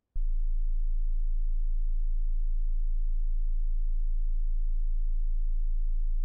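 A pure 27.5 Hz sine tone, the very low A near the bottom of human hearing, starts abruptly and holds as a steady, unwavering rumble for several seconds.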